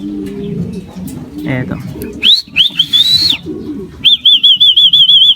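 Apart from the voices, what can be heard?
racing pigeon arriving at the loft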